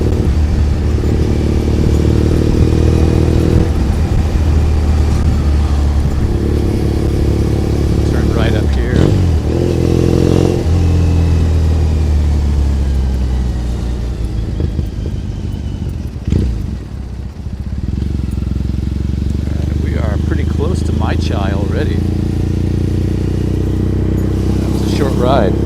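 Motorcycle riding through Tokyo city streets, its engine droning steadily throughout with traffic noise around it, while someone talks over it off and on.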